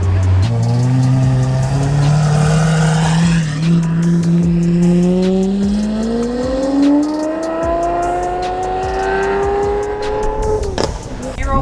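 A supercar leaving a track day, its engine revving out with a climbing, sustained tone that builds over several seconds before cutting off, loud and close, with voices talking underneath.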